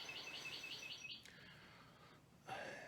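A small bird chirps in a quick string of high, repeated notes at the start, faint and distant, followed by quiet room noise and a soft breath.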